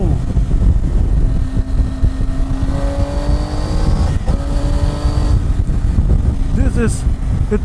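A 2018 Triumph Tiger 800 XRt motorcycle accelerates through the gears. The engine note climbs in pitch, drops, and climbs again, loud and close against heavy wind rush.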